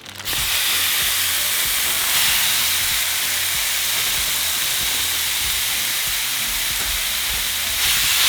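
Pork adobo meat dropped into a hot pan, breaking into a loud, dense, steady sizzle right after an opening clatter, sustained close-up with no talk.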